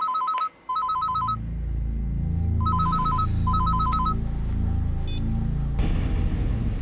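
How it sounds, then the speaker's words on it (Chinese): A telephone rings with two electronic trilling bursts, a pause, then two more bursts, fairly loud over a low background hum, followed by a click as the call is picked up. "这通电话你还是自己接好了"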